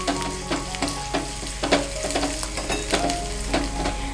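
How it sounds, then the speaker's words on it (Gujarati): Onion, asafoetida, curry leaves and white sesame seeds sizzle steadily in hot oil for a Gujarati handvo tempering, a close, continuous crackle with scattered sharper pops and light stirring clinks, no voices. "અને કાંદા ટ્રાન્સલુસન્ટ સૌતે થઈ જાય ત્યારબાદ આપણે તેમાં 1/4 ટીસ્પૂન હિંગ એડ કરી દેશું"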